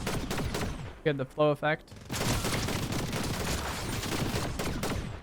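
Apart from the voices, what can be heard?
minigun gunfire in Fortnite video game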